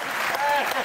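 Studio audience applause on a French TV talk show, a short burst of steady clapping filling the moment, with a voice speaking over it.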